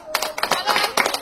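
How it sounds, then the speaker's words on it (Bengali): Loud close hand clapping from a group at a string-pulling prize game, a quick burst of sharp uneven claps lasting about a second. "মৌদির জন্য জোরে একটা হাততালি"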